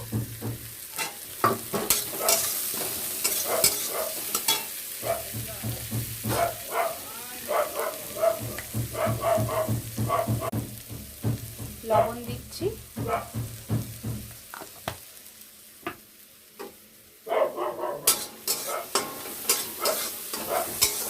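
Food frying in oil left over from frying fish, a steady sizzle broken by stirring scrapes and clinks in a home kitchen, with intermittent talk and a brief dog bark in the background.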